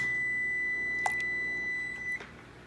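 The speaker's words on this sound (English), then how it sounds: "Our timer has gone off." Kitchen timer going off during home canning of pickled banana peppers, a steady high electronic beep holding for about two seconds and then cutting out, fairly clear over a quiet room with a faint click.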